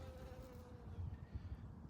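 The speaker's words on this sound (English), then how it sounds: "Oh, there's a bee." A bee buzzing nearby on a record-warm Halloween day outdoors, a faint steady drone with a thin high hum over low rumbling background noise.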